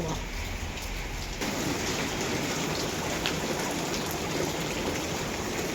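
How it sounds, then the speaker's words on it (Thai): Steady rain pours down in a continuous, even hiss, close and fairly loud, with no voices. "ฝนตกพี่น้อง"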